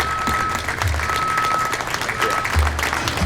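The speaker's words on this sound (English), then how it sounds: "One more round of applause for Vince Tirri." A crowd at a Paterson civic honoring ceremony gives a sustained round of applause for education advocate Vince Tirri, dense continuous clapping with murmured voices and a low rumble underneath.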